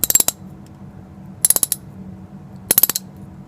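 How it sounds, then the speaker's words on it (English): A hand tap is turned into a stripped bolt hole in an aluminum Jeep Wrangler transmission case, cutting new threads for a HeliCoil insert: three short bursts of close metallic ratcheting clicks, each a quick rattling cluster, separated by quiet pauses. "The tap should move freely within the hole."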